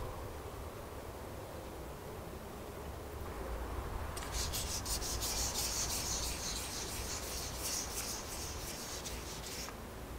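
A primed car valve cover from an EK4 being sanded by hand, giving a steady, close, hissing rub that grows brighter and more scratchy partway through, with no talking.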